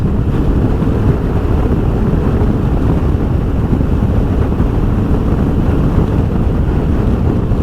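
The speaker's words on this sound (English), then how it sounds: "only the wind from the oncoming wind is coming at me" Steady, loud wind roar buffets the microphone while riding a 2021 Honda X-ADV motorcycle along a highway in fifth gear, a continuous low rushing wash with no pauses and no talking.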